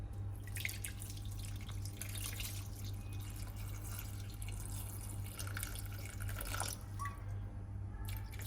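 Water is added to a mango fish curry with coconut milk, a faint, continuous trickle and splash over a low steady hum.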